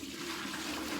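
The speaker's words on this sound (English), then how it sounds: "let me tip this water away" Water poured out of a bowl into a sink, a brief continuous splashing gush at close range.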